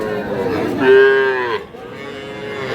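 A cow at the Raniganj cattle market, where small bulls and calves are sold, gives one loud, drawn-out moo close by, with faint market chatter around it.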